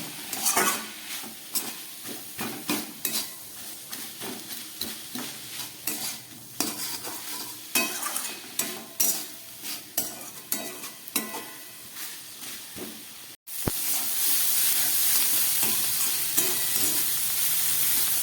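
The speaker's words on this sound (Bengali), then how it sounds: "এবার আমি এটাকে প্রায় 2-3 মিনিটের মতো কষিয়ে নেব।" Banana flower curry with ginger paste and spices is stir-fried in a pan, with steady scraping and stirring clatter over a sizzle, then a louder continuous hiss of frying for the last few seconds.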